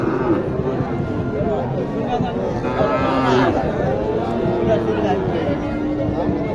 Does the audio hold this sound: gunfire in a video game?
no